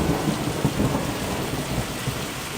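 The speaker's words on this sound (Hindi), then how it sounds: "बिजली कड़कती है, भारी बारिश होती है।" A thunderstorm with rumbling thunder over steady heavy rain, a dense continuous wash of rainfall with low rolling booms swelling through it, no voices present.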